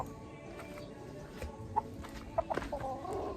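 White Leghorn chickens cluck softly in a few short, scattered calls over a quiet outdoor background.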